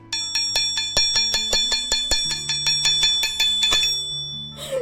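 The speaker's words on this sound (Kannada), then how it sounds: "ಈ ಥರ ಬೆಲ್ ಹೊಡಿಲಿಕ್ಕೆ ನಾವು ಜಾಸ್ತಿ ಹೊಡಿತಾ ಇದ್ವಿ ಇದಕ್ಕಿಂತ" A school bell is struck by hand in quick, regular strokes, about a dozen bright metallic rings with long overlapping decay, loud and close. The ringing stops near the end and a short voice follows.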